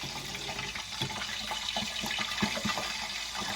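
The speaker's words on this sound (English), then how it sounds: "Take a look at this as I pour this over that rice." Thick sausage and shrimp gumbo pours steadily over a bed of rice, a continuous wet, splashing liquid stream lasting a few seconds at close range, with no voice over it.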